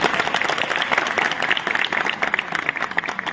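An audience at a stage music event applauds in a steady, dense burst of clapping from many people that lasts throughout at even loudness, with no talking.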